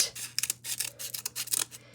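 Scissors trimming material, a run of several close, crisp snips with short ticks between them, quiet over a low steady hum.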